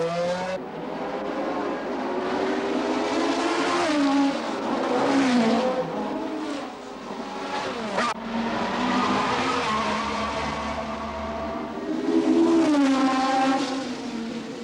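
Racing cars at the 1969 Monaco Grand Prix drive at speed, their engines rising and falling in pitch as they pass. Tyres squeal, and the sound is loud and continuous, with no voices.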